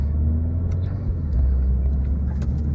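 A Renault Clio 4 RS accelerates, its turbocharged engine producing a steady, close, loud low rumble with a faint hiss riding above it.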